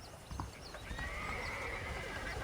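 A horse neighs in the Red Dead Redemption video game, a faint whinny with hoof clip-clops against a steady hiss of background ambience.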